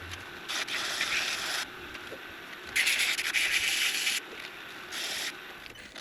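Steady abrasive sanding against a wooden whistle spinning on a lathe, grits 120 through 400, rising and falling in intensity as the paper is pressed on and eased off, close and continuous.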